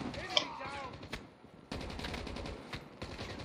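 Video game gunfire from Call of Duty: bursts of shots up close, with a sharp crack early on and sustained rattling fire through most of the clip, mixed with game noise and a voice.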